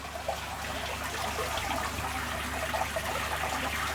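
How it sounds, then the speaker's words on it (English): Water sloshes and churns in a bucket as jellyfish aquarium material is swirled about to rinse off dust and loose sand, a close, steady watery rushing without pauses. "I'll put it in a bucket and I'm going to just give it a good old slosh about in there"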